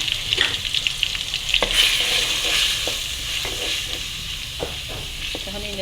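Onion frying with garlic and ginger paste for a chicken curry, loud continuous sizzle with spoon clicks and scrapes as it is stirred, a voice briefly heard at the end.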